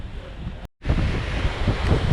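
Strong wind roars across the microphone aboard a cruise boat on Milford Sound, with a brief dropout before the loud, continuous gusting and water noise resumes.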